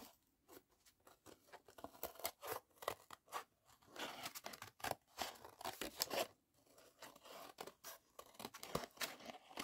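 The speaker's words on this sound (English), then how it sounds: "Let's fussy cut this out first." Scissors fussy cutting paper for a junk journal, making quick, close snips and crisp crinkles in irregular bursts, quiet and alone with no voices.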